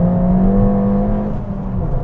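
A Ford Fiesta ST with a short shifter drives along, its engine humming steadily close by, then the tone drops and shifts briefly as a gear changes.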